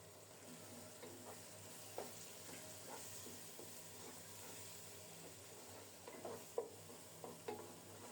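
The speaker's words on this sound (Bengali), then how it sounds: "জল ছাড়া কিছুক্ষণ মশলাগুলো কষিয়ে নিচ্ছি।" Spices with turmeric, chili powder and tomato paste sautéing in a pan without water, a soft steady sizzle broken by occasional stirring scrapes and light clicks, close and fairly quiet.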